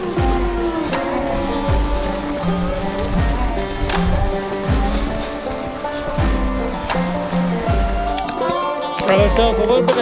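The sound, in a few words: hail falling on a tent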